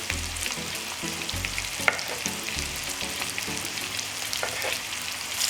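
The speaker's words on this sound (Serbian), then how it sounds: "Paprika i luk se prže" Red pepper and onion fry in a pan with a steady, close hiss and crackle, broken by faint scrapes of stirring and a few low thumps, and no voices.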